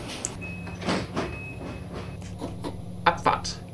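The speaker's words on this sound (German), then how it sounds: "Tür zu." The doors of a BR423 S-Bahn train close in Train Simulator Classic on the S6 line at Frankfurt. Thuds and sliding bumps come with thin warning tones, and someone talks over them.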